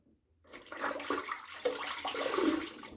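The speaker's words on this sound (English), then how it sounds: "I'm going to wash this little razor off." Running water rinses a straight razor freshly honed on a coticule stone, a steady splashing wash that starts after a short pause and continues fairly close.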